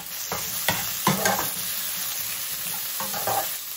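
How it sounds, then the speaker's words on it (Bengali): Diced tomatoes go into onions already browned in hot oil, giving a loud close sizzle with several sharp scraping stirs of a spoon against the pan at irregular intervals. "পেঁয়াজটা ভাজা ভাজা হয়ে গেছে, এইবার ডুমো করে কেটে রাখা টমেটো গুলো অ্যাড করে দিচ্ছি।"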